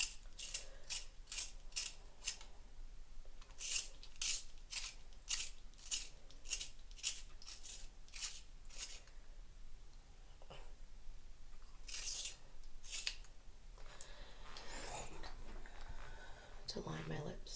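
A chunky LA Colors glitter lip pencil is turned in a handheld sharpener, making a run of crisp, rhythmic scraping twists close up, with a few pauses and softer rustles near the end.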